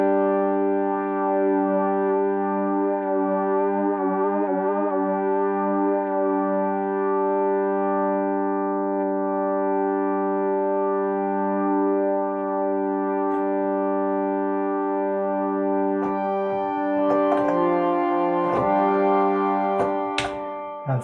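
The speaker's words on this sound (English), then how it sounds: "Maybe flanger." A Korg Opsix synthesizer holds a steady sustained tone through a flanger effect, its swirling sweep rising and falling over about twenty seconds, with a few sharper harmonic flickers near the end and no voice.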